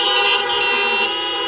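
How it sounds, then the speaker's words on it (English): Car horns blare in a sustained, loud, steady honk for a church's drive-in live stream service, with no talk over it. "let's hear those horns honk."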